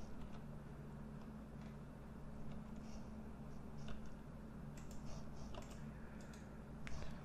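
Keyboard shortcuts tapped on a computer keyboard during 3D weapon rendering work: soft, scattered clicks and short bursts of keystrokes, fairly faint, over a steady low background hum, with no talking.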